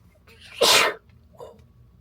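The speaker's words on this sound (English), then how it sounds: "Clam chowder sneeze." One sharp, loud sneeze bursts out close up during a clam chowder meal, followed by a faint breathy exhale in an otherwise quiet space.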